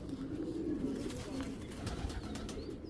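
A pair of black Bagha pigeons coo nearby, soft low rolling calls repeating over a steady background hum, with faint rustling from the birds.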